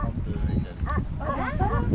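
A large flock of about 1500 ewes bleating: overlapping wavering calls from several animals, some near and some farther off, over a steady rumble of the flock.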